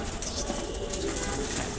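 Racer pigeons coo softly under a steady wash of broadband background noise, the low murmuring calls continuing throughout without a clear break.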